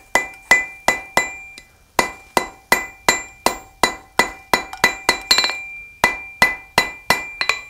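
A blacksmith's hammer striking a chain link at welding heat on an anvil, a brisk series of ringing metallic blows, some in quick doubles, each bright clang decaying with a sustained anvil ring, close and loud with no talk.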